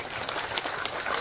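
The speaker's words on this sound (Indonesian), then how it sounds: "Tolong tepuk tangan" Applause from an Independence Day gathering with veterans, a steady patter of many hands clapping at once, fairly loud and continuous throughout.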